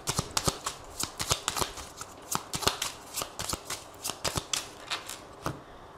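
A 32-card deck being shuffled and cut by hand, giving a brisk run of crisp riffling flicks and card slaps in quick irregular succession, close and fairly soft, with no talking.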